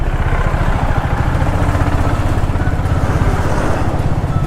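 A Royal Enfield Hunter 350 motorcycle rumbles steadily and loudly up close while riding through traffic, its engine note continuous and even with no breaks.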